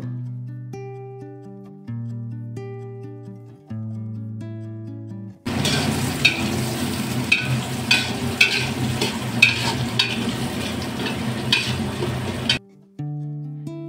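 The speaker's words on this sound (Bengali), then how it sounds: "এবার একটা বড় পাত্রে তেল গরম করে এর মধ্যে গোটা গরম মশলা, তেজপাতা ও পেঁয়াজ কুচানো দিয়ে দেব।" Whole spices, bay leaf and chopped onion frying in hot oil in a large pot for Bengali muri ghonto, a loud steady sizzle with stirring scrapes that runs about seven seconds between stretches of background music.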